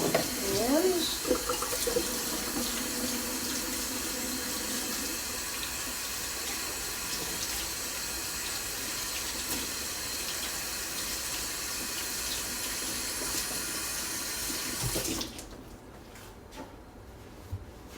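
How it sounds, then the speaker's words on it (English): A kitchen tap runs steadily into a sink while hands are washed before frying bacon, a constant close hiss of flowing water that stops abruptly near the end, with brief speech at the start. "Just gotta wash my hands."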